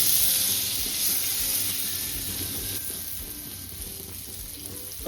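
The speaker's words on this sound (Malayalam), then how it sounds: "ബട്ടർ നന്നായിട്ട് മെൽറ്റാക്കി എടുക്കാം" About 25 grams of butter melts in a hot, large kadai for paneer butter masala, crackling in a close, even sizzle that slowly softens, with no one talking.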